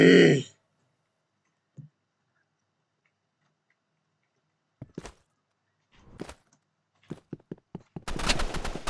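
Gunfire in the Roblox game Rivals arrives in short, sparse bursts of sharp cracks separated by stretches of silence, ending in a denser noisy burst.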